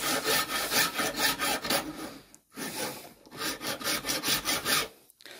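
A metal file rasps the sharp edge off a hand plane's lever cap in quick, rhythmic back-and-forth strokes, moderately loud and close, in two runs split by a brief pause.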